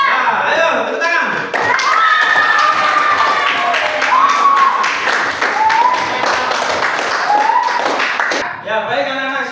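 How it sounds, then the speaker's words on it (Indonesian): Students in a classroom clap their hands together in a dense, sustained round of applause, close and lively, with voices and cheers mixed throughout. "ayo, tepuk tangan."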